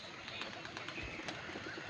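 Pigeons coo softly at a distance, low and muffled under steady background noise, with a few faint short calls.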